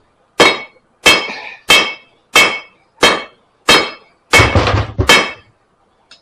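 Hammer blows on hot metal over an anvil during hand forging, eight sharp ringing strikes in a steady rhythm about every 0.6 seconds, loud and close with no talk.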